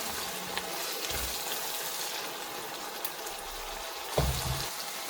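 Tomato pieces and onions frying together in a pan for a seafood paella, giving a steady, moderately loud sizzle with no talking and a brief clatter of stirring near the end.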